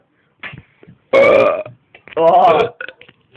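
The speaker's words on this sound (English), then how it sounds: "Burping contest!" Loud, long burps during a burping contest, two big rumbling belches with short gaps and a few smaller sounds between them, close and dry.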